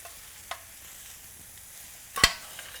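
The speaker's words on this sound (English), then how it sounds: "we're going to spoon our veggies into our pot with our pasta" Cooked vegetables spooned into a pot of pasta, a soft wet stir with a faint scrape and one brief clank of the spoon against the pot, close and quiet.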